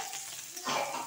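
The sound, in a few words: stirring spices in frying pan for paneer curry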